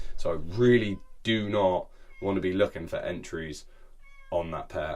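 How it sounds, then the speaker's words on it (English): A house cat meowing several times, loud and close, with drawn-out cries overlapping someone talking indoors. "Oh, that's my cat."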